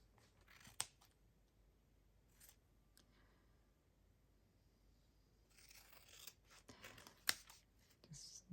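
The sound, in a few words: snipping journal card paper with scissors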